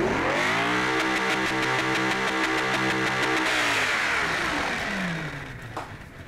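A car engine in the Automation video game revs hard and loud for several seconds with a rising, buzzing harmonic whine, then the revs drop and the sound fades toward idle.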